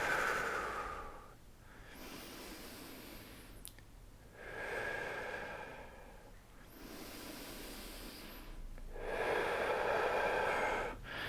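Slow, deep yoga breaths close to the mic, about three long inhale-exhale cycles with quiet pauses between them and no talk.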